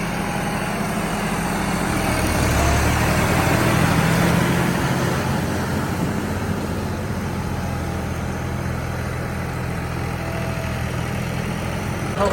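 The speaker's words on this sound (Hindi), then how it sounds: "ट्रैक्टर को खड़ा करके रख देते हैं यहीं पे" A parked tractor's engine idles with a steady low rumble that swells slightly for a few seconds and then settles, constant and fairly close, with no talking over it.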